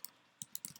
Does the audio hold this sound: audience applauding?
no